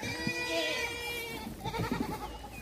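Several goats in a pen bleat in overlapping, wavering cries, close and clear, one call running into the next with little pause.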